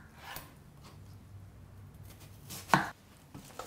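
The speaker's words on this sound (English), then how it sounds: "Onto our cucumber. Cut them in half." A knife slices through a halved cucumber on a cutting board in a kitchen, a few quiet, close cuts with one sharper chop near the end.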